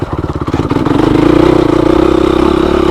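A Honda CRF250 dirt bike engine loud and close on a state park trail, starting with a few choppy throttle blips, then settling into a steady, raspy single-cylinder drone.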